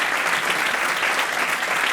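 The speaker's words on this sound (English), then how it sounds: "Keep on applauding" Audience applause fills a conference hall at the close of a mental health presentation, a dense, steady wash of many hands clapping at even loudness throughout, with no voices over it.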